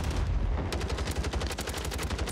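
Rapid bursts of automatic gunfire in the video game Warzone, a quick loud rattle of repeated shots at close range following a brief lead-in, with no talking over it.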